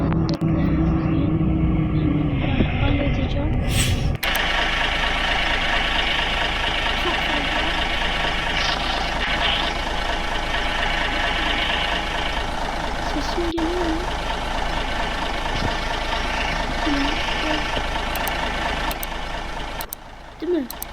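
In a bus simulator video game, a bus engine idles with a steady low rumble, preceded by a louder revving stretch at the start and followed by occasional beeps and brief mechanical clicks.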